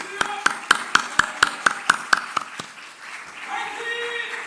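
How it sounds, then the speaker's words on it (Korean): At a church gathering, someone gives about ten loud, evenly spaced hand claps in a crisp rhythm, then the clapping stops and a murmur of voices and a faint speaking voice follow. "저 뜨거운 박수 한번 해주겠습니다"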